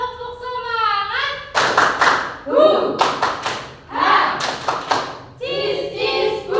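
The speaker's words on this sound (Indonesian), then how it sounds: "Oke, 1, 2, 3. Tepuk semangat." Group of students in a classroom clap in rhythmic bursts together as part of a spirited cheer, with voices chanting loudly between and over the claps.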